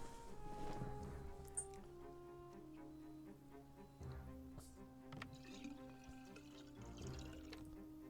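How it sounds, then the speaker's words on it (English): In a survival video game, fuel is poured from a gas can into a generator: a steady liquid glug and trickle, close and moderately quiet, running continuously with small splashes. "And let's add fuel with the gas can."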